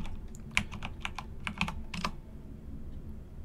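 Keystrokes on a Windows 10 computer keyboard tap out a short command in a quick, uneven burst of about a dozen close clicks, then stop.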